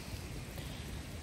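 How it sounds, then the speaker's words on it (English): Rain falls on a mountain hiking trail in Hawaii, a constant, close hiss and patter that lasts about a second, with no voices. "I hope the rain slows down a little bit"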